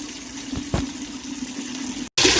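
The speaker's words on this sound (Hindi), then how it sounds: "ऐसे हमने शक्करकंदी को अच्छे तरीके से पानी से वॉश करना है" Sweet potatoes are washed in water, giving a steady running rush and light splashing up close, cut off abruptly near the end before another loud gush of water begins.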